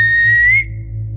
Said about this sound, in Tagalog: Mula sa malayo ay may narinig akong parang sumipol